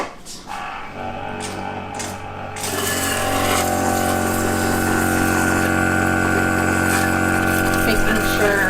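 An ear wax removal machine pumps a tap water rinse, starting with faint splashing and then settling into a loud, steady motor hum with a constant buzzing whine that continues to the end.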